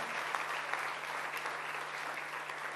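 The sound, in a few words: church congregation applauding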